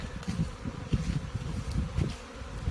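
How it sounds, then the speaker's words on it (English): Honeybees buzz around their hives on a cold early spring day in Canada, a steady close-up drone of many insects with no talking. "Ooh, my bees."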